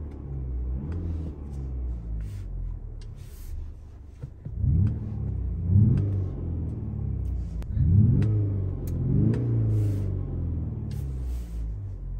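A 2023-2024 Mercedes-Benz GLC Coupe diesel engine in sport mode rumbles at idle, then revs up sharply three or four times in deep, throaty bursts, close by and loud.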